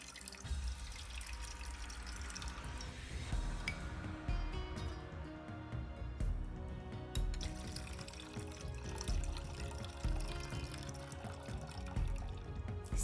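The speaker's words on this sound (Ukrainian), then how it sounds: "Через 15 хвилин знімаємо з банок наше укриття і виливаємо з них воду." Hot water pours and trickles out of glass canning jars of apricots, a steady watery splash with drips running the whole time over soft background music.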